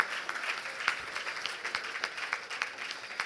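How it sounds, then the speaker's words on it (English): Guests at a charity luncheon gala clap for themselves, a thin room-filling round of applause with distinct individual claps rising and falling, fairly distant and moderate in level. "Please give yourselves a roaring round of applause. Clap it up for yourself."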